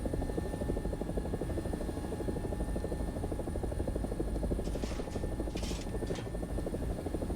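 Several AB 205 (Italian UH-1H) helicopters in a video game, a continuous loud rotor and turbine drone with steady whine, close and unbroken, with brief higher hissing bursts near the end.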